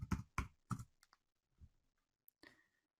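Keys on a computer keyboard clack in a short burst of a few close, crisp presses, then a pause and a couple of lighter taps in a quiet room.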